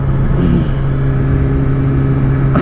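A Yamaha R6 street fighter motorcycle accelerating hard, its engine droning loud and close with a steady rising tone, then a brief sharper burst at the end.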